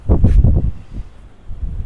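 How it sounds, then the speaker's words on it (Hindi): Strong gusts of a night-time dust storm buffet the microphone in loud, rumbling bursts that ease off and then build again. "फिर से आंधी आ गई है आज यहाँ पे रात में ही, फिर से देखो, और फिर से हवा चल रही है"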